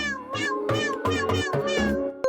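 A cartoon cat meows several times in quick succession, with high, wavering, close cries that blend into one another.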